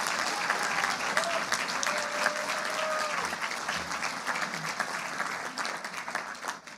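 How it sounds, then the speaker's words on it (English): A hall audience at a school closing ceremony applauds the senior leadership team, steady, full clapping from many hands, close and continuous, with a brief tonal whistle or squeak partway through and a gradual fade at the end. "I think they all deserve a huge round of applause."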